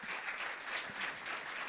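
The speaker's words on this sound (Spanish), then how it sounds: "quiero que usted reciba con un fuerte aplauso este primer tema" Steady applause from a concert audience, a dense patter of many hands clapping at once, moderately loud and unbroken throughout.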